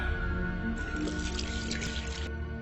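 Water poured or dripping for ritual hand washing during a stage performance of Jesus' trial, a soft continuous trickle and splash with no talking.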